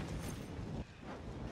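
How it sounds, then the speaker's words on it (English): A stun grenade going off during a Call of Duty MW3 team deathmatch, a dense, roaring broadband blast that fills the short moment, with a brief dip partway through before the rumble swells back. "Throwing a stun grenade."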